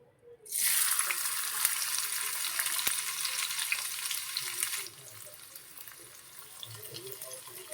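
Chopped onion hitting hot oil in a pan bursts into a loud, hissing sizzle that holds steady for several seconds, then settles to a quieter crackle.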